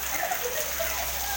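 Rain falling outdoors where girls play, a soft steady patter of drops with faint distant voices in the background.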